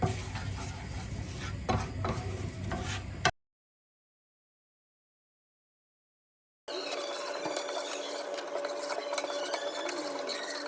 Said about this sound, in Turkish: Şimdi güzelce kızartacağım.